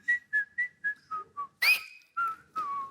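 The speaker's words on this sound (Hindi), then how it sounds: "मैडम, मैंने सुना आप सीटी काफी अच्छा मारते हो" A woman whistles a run of short, crisp notes in a steady rhythm, then a sharp rising shrill whistle and two longer sliding tones, clear and close with no talking.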